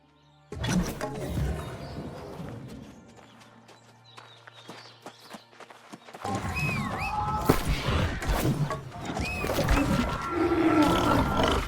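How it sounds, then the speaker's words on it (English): Beasts roaring and howling in the video game New World: Aeternum, loud growling roars rising against a quieter stretch, then heavy battle commotion with further snarls and cries. "Did you hear the roars and howls?"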